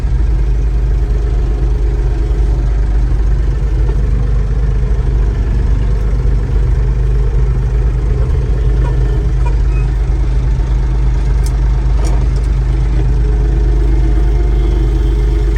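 An old Massey Ferguson 550 tractor engine runs steadily with a deep, rumbling idle throughout, loud and close, with no clear talk over it.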